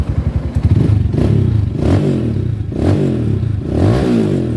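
A Rusi Sigma 250 motorcycle fitted with a 4-pin CDI revs hard several times, each loud rising engine roar falling back between throttle blips, close up with some mechanical clatter.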